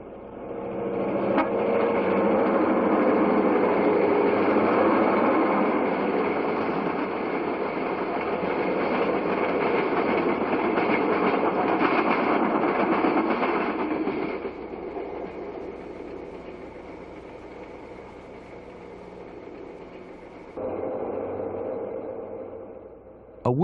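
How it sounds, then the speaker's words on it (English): The California Zephyr, a diesel passenger train, rolls past the signal cabin at Soldier Summit with a loud, sustained engine drone and steady rail rumble that drops to a quieter roll midway, then briefly swells again. "The California Zephyr clears the signal cabin that marks Soldier Summit."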